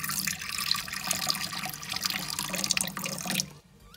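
Fresh water pours into an African fat-tailed gecko's dish with a steady close splashing trickle that stops abruptly near the end.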